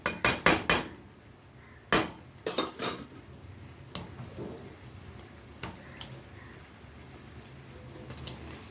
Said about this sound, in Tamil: ஸோ இதுலேயே 2 தக்காளி சேர்த்துட்டு ஸ்மாஷ் பண்ணிக்க போகிறேன்.